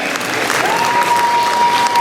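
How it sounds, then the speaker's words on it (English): A school Christmas concert audience applauds a guitarist with steady, dense clapping that fills the hall for about two seconds, a thin sustained tone ringing faintly through it. "a big round of applause for Roger Mellon on guitar"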